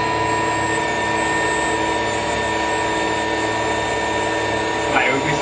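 An electric skateboard hub motor spins on a dyno under braking load, giving a steady high electric whine with a constant mechanical hum beneath it.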